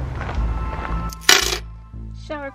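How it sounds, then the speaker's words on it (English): Coins drop into the coin slot of a campground shower, a bright metallic clatter followed by a short rattle and a brief electronic beep, close and clear with no talking. "Shower coins."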